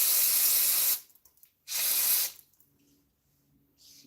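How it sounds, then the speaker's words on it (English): Carburetor cleaner sprays from an aerosol can onto a truck part in two sharp hissing bursts, each about a second long, separated by quiet. "Spray a little bit of carburetor cleaner on it."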